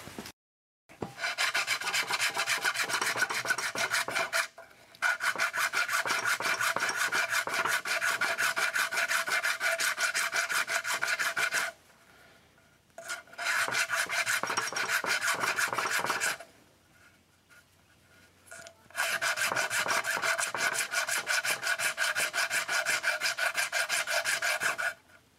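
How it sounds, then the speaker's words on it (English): Rasping file strokes on a copper penny clamped in a vise, a fast steady scraping rhythm in three long bursts separated by short pauses, close and clear with no talking. "We want to file the tail side, not the head side of the penny."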